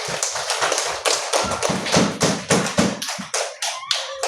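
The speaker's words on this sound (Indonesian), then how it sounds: "Tepuk tangan bagi kelompok yang sudah mempresentasikan." Pupils in a classroom clap for a group that has just presented, producing a rapid, loud run of close, punchy claps in an uneven rhythm with no talking.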